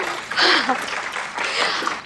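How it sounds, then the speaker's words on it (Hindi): A brief burst of clapping from a small group in a TV serial scene, cheering an idea for a best-dress competition, with voices mixed in. "तालियां"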